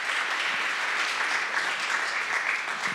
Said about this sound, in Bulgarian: Аплодисменти за основателите.